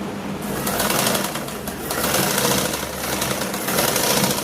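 A sewing machine runs continuously as it stitches close along the edge of a piece of fabric, giving a dense, even mechanical whirr with slight pulsing.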